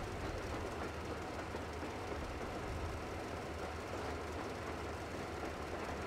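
Moving train in the Metro Exodus video game, a steady dense rumble and rolling noise with no breaks, loud and unbroken throughout.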